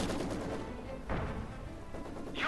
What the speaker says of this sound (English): He did an incendiary barrage, and that was very effective.